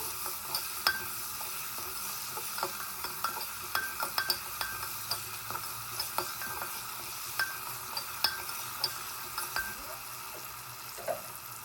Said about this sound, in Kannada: ಒಂದು ಕಪ್ ಟೊಮ್ಯಾಟೊ ಇದನ್ನೆಲ್ಲ ನೀಟಾಗಿ ಹಸಿ ಸ್ಮೆಲ್ ಹೋಗೋವರೆಗೂ ಬಾಡಿಸ್ಕೋಬೇಕು